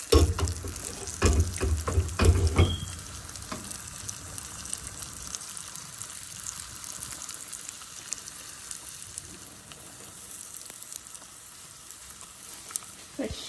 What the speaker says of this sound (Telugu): తాలింపు వేసుకోవడం. తాలింపు అండి.